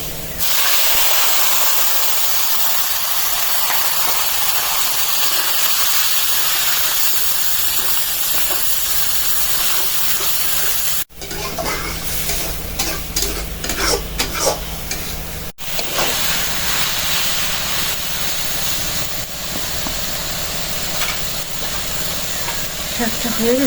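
Leafy greens dropped into hot oil with fried garlic, a loud continuous hiss and sizzle close up, then stirring clatter and crackle as the greens settle, with a faint voice now and then.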